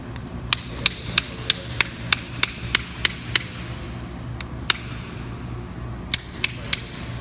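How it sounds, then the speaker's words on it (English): Sharp metallic hammer taps on a bolt, driving out the eyelet bearing of a Fox mountain bike shock in a workshop: a steady run of about ten evenly spaced strikes, a pause with one tap, then a few more, close and crisp. "then we grab ourselves a hammer, and it's hammer time"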